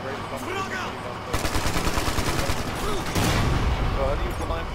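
Blind fire from cover in Ghost Recon Future Soldier, a rifleman's rapid gunfire bursting in dense repeated volleys, loud and steady, starting abruptly and intensifying toward the end.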